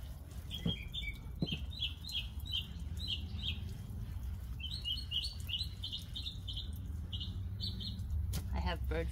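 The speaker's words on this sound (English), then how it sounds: "Bird feeders, and the birds are coming around." Small birds chirp around garden bird feeders outdoors on an overcast day, with repeated bright tweets in two clusters over low steady background rumble, plus a brief rustle near the end.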